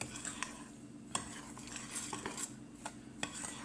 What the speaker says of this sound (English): you need to mix up all the dry ingredients in the bowl